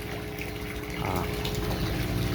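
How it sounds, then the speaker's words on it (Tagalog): Water gushes and pours into a concrete catfish pond during a water change, a loud, close, continuous rush that swells slightly partway through. "Nagpapasok tayo ng tubig."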